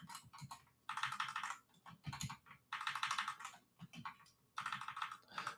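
Rapid bursts of typing on a computer keyboard, with dense clattering keystrokes in three long runs separated by brief pauses and scattered single taps, close and clear with no voices.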